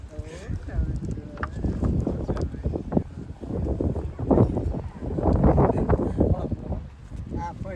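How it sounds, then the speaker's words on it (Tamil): Strong wind sweeps across a hilltop on Kondarangi Hills in Karur, buffeting the microphone with loud low rumbling gusts that swell and ease, while people talk over it. "மேட்டில் கொஞ்சம் காற்று அதிகமாகிடுச்சு"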